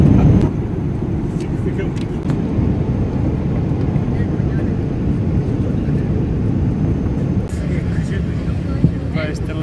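Airplane cabin near landing, a steady low rumbling drone of engines and airflow filling the space throughout.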